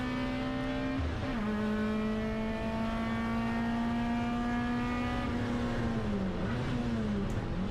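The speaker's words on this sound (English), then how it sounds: "Into the final hairpin then goes the BMW" A BMW race car in a racing video game holds a loud, steady engine drone as it brakes into a hairpin, its pitch dropping and then recovering with a faint tyre squeal, with no voices.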